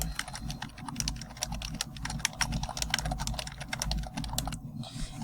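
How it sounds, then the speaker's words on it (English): Fingers type on a computer keyboard to add text in a document, a quick steady run of close, crisp key clicks with a low background hum. "Another thing that you can do is to type directly into the document."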